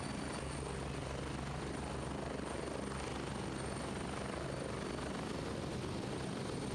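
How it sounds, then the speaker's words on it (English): In the video game Gray Zone Warfare, a helicopter takes off with a loud, steady rotor roar and a constant turbine whine, continuous and close throughout and without any talking. "So taking off from the chopper, we're headed to the LZ."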